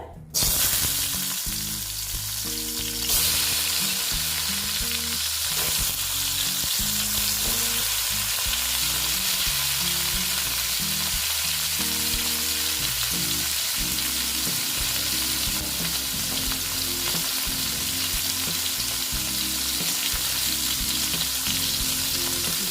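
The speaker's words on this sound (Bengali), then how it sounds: "দিয়ে এটা আমি ভালো মতন ভেজে নিচ্ছি" Eggplant pieces coated in salt and turmeric fry in hot oil, giving a loud, continuous close sizzle with stirring, and faint background music underneath.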